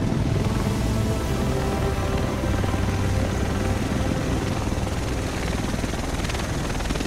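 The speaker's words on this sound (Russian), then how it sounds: "Вот и вертолет." A helicopter arrives in the video game Tom Clancy's The Division, its steady, loud rotor roar and engine drone filling the whole stretch with no break.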